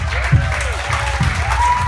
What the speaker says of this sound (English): So give these kids a big round of applause